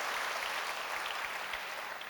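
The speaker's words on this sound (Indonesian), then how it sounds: "Yang percaya berikan tepuk tangan buat nama Tuhan." A church congregation claps together in steady, moderately faint applause that fills the room evenly for a couple of seconds.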